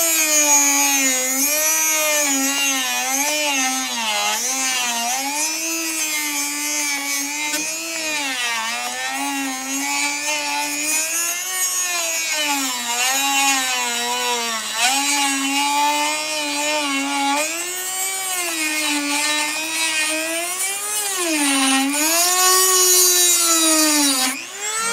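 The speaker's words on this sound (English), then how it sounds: "One of these, the Dremel," A Dremel rotary tool cuts into a disc padlock with a loud, continuous high whine that wavers in pitch as the disc bites and eases off, running steadily close up without talk.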